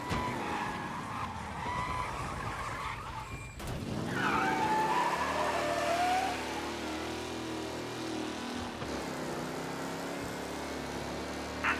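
A race car tears through city streets in Mafia: Definitive Edition, its engine roaring loud and steady for several seconds, with tires squealing through a skid near the middle.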